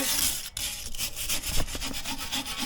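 Vigorous back-and-forth scrubbing of rust and brake dust off car wheel parts, close and loud, a rapid rhythmic rasp with a brief break near the start.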